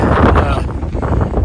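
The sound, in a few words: wind during a blizzard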